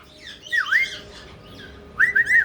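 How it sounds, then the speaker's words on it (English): A pet bird indoors gives a rising squawk followed by a run of short, bright whistles, loud and near, with a quiet pause between the calls and no talk over them. "Yes, you're a happy little bird."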